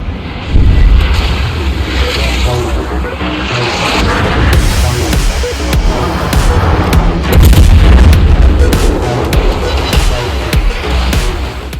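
Heavy naval gunfire from a Tier 3 German battleship, the Nassau, in the World of Warships game: loud, close booming salvos and shell impacts in irregular bursts over a rumbling low background.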